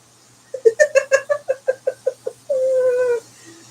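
A cat meows in a quick run of about ten short, evenly spaced calls, then holds one long drawn-out meow and a small final chirp, close and loud with no talking.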